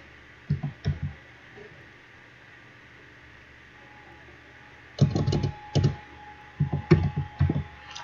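Clusters of quick clicking keystrokes on a computer keyboard, in short bursts separated by pauses, fairly close and alone over a quiet background hiss.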